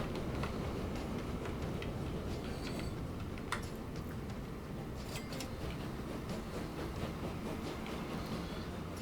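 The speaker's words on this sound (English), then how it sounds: "Looks like we got our signals set up correctly as the train heads on through." Train rolling steadily through a rail network in Transport Fever 2, a continuous low rumble with faint ticking clicks over it, even and sustained throughout.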